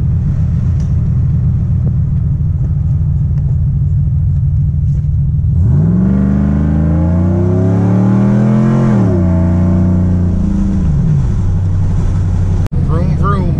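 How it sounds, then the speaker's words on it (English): A car engine fitted with a cam and a 3000 stall torque converter idles with a lumpy rumble, then revs up and holds high before dropping back to idle, loud and close. "And I'll show you how the RPMs jump up."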